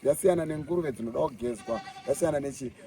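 Goats on a goat farm bleating close by, several wavering, quavering calls in quick succession, fairly loud and alone.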